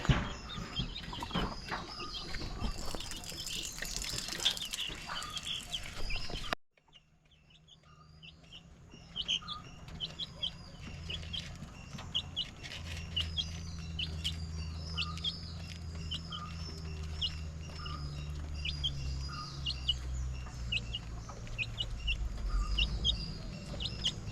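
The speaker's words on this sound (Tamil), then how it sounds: "மயில் கத்துற சத்தம் நம்ம ஏரியாவில் நிறைய மயில் இருக்குது" Outdoor scene with a rustling, noisy start, then a low hum under repeated peacock calls that come and go in the distance.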